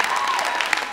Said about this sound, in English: I want you guys to applaud them for using the stage